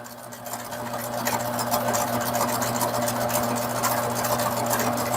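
A sewing machine runs steadily while stitching stretched fabric for a handmade doll slip, making a continuous mechanical hum and rapid needle chatter for the whole stretch, close and loud, with no talking.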